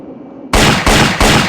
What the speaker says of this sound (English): I'll just use a machine pistol.